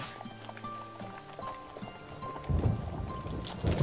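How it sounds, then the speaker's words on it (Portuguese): Steady rain begins falling and grows heavier, with a low rushing patter swelling in the second half, loud and close. "A chuva! Tenho que correr!"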